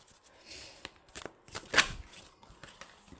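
Tarot cards are shuffled by hand and some slip and fall, giving soft papery riffles with one sharp slap of cards midway, fairly faint and close.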